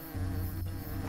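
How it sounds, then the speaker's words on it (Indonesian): Insects buzz steadily in the video game Hungry Lamu, a continuous droning hum holding through the whole short moment at moderate loudness, with no talking over it. "Lebah katanya."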